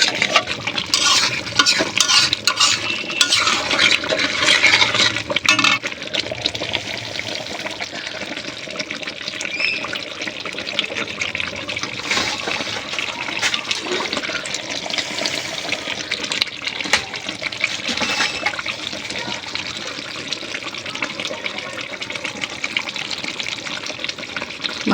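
Boiling hot water is poured into mutton simmering on the stove, making a loud, continuous rushing, bubbling hiss with stirring that lasts throughout, close up and without speech.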